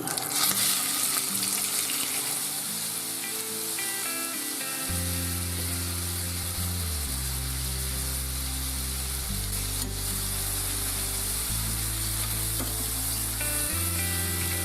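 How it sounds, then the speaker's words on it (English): Steady sizzling of chicken frying in butter in a pan over maximum heat runs throughout, with music playing underneath from a few seconds in and no talking. "Pour some butter in your frying pan, maximum heat. Fry the chicken."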